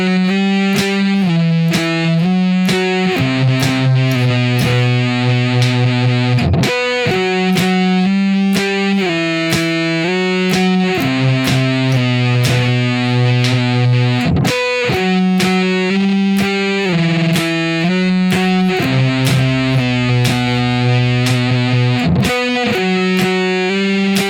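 Heavily distorted electric guitar plays a groovy stoner rock riff of octave shapes, with repeated strums and slides between positions, loud and steady throughout, with no voices.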